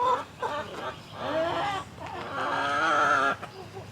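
Chickens on a homestead during an excessive heat warning, clucking and squawking up close in a few bursts, including a longer drawn-out call, with no talk.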